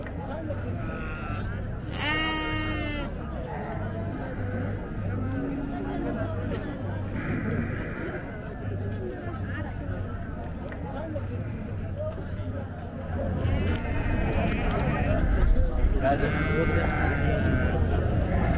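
Sheep bleat at a weekly livestock market where cows, goats and brown sheep are traded, with a loud close bleat early and more bleating later, under continuous talk and crowd murmur.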